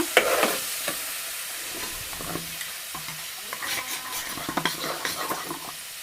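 Onions and green chillies fry in a pan with a steady broad sizzle, broken by scraping stirs and light utensil clinks against the pan. No one speaks.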